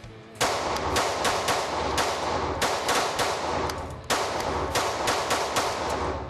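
Gunshots fired at a rat-shaped target ring out loud and sharp, a series of close, rapid cracks in quick bursts with a brief gap partway through.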